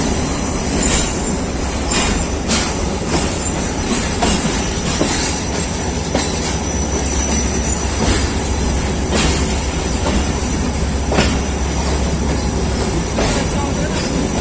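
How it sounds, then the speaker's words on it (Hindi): A passenger train hauled by a GU40 locomotive rolls along the down track, giving a loud continuous rumble with rhythmic wheel clatter, heard from aboard another train, with faint voices in the background. "डाउन ट्रैक पे भी ट्रेन जो है वो चल पड़ी है।"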